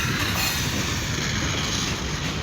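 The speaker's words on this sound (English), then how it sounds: "yeah, that's the train, yo." A train passes near a dog park with a dense, steady rumble and rush of rail noise that holds loud throughout and fully covers the background.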